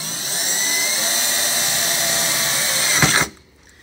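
A power drill bores through a snowmobile tunnel box, a steady loud high whine held for about three seconds before it abruptly stops.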